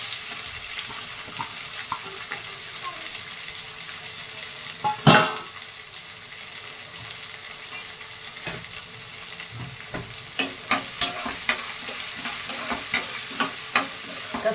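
Onion frying in a pan for a potato curry, a steady sizzle with scraping stirs and one sharp clatter, all close and without speech.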